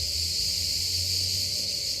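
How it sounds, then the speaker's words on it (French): Cicadas in a summer outdoor setting in Venice, a continuous, steady high-pitched droning buzz that stays loud and unbroken throughout, with a low hum underneath. "Et les cigales, elles sont d'accord avec moi."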